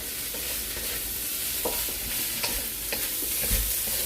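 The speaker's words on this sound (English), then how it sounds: "Make sure you keep on sauteing it, stir frying it." Continuous sizzle of jasmine rice being stir-fried in a pan, with irregular scraping and tapping of a utensil against the pan.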